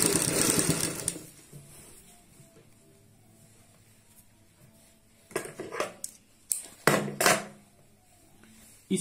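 Sewing machine stitching double piping, heard as a short loud run of stitching at the start, then quiet, followed by several brief handling clatters and short bursts.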